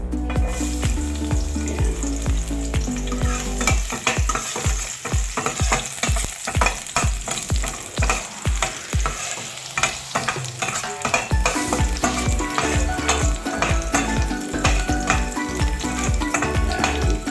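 Garlic sizzles and sautés in a pan for Filipino monggo, a loud, steady frying hiss broken by frequent clinks and scrapes of a utensil stirring against the pan. A voice speaks a single brief word.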